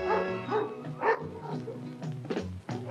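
Several dogs bark and yip in quick bursts at a household dog beauty contest, with short, lively, close-up barks that come one after another for a few seconds.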